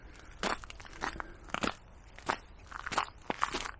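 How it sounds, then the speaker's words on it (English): Footsteps crunch over frozen snow and ice lying on top of mud during a winter countryside walk at about -1°C, a steady series of close, crisp crunches with no talk. "I think you can hear the ice crunching underfoot."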